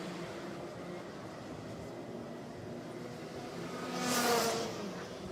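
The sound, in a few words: racing karts on track at Sepang circuit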